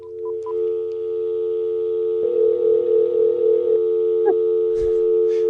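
A steady telephone dial tone hums without a break, with a few short dialing beeps near the start and a soft warbling overlay partway through, close and clear.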